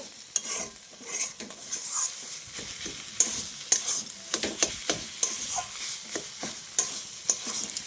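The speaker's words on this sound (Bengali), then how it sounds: "আমি একটু 2-3 মিনিট মতন একটু নাড়াচাড়া দিয়ে তারপরেই নামিয়ে নেব।" Pea-shoot ghonto, a Bengali leafy greens dish thickened with flour, sizzles in a pan while a utensil stirs it in repeated scraping strokes, close and fairly quiet, with a soft frying hiss underneath.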